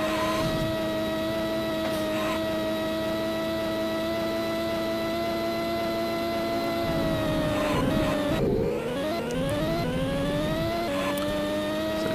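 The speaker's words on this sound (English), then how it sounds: "And again, I'm racing with Ferrari." Ferrari Formula One car engine from the Sega Mega CD racing game Beyond the Limit, Spain course, holding a steady high whine that sweeps down and back up as gears shift mid-run, loud and continuous with no talk.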